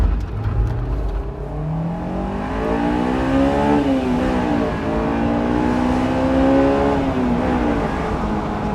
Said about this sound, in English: You can floor this thing everywhere, and you're not really exceeding the speed limit all that much.